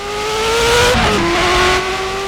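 A Ferrari F40 Competizione engine in a racing game mod screams loudly at high revs, with a brief dip like a gear change about a second in, then climbs again, with no voices.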